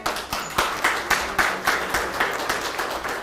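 Scattered clapping at an art show gathering, distinct individual claps spaced in a loose rhythm rather than a full ovation, moderately close with faint room murmur.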